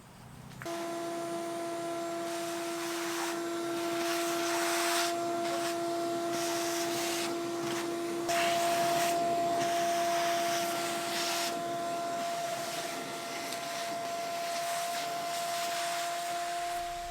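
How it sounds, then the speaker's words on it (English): A loud, steady vacuum cleaner drones close by without pause, its motor whine holding a constant pitch with slight shifts as it moves across a surface. "let's vacuum this off so we don't get it everywhere"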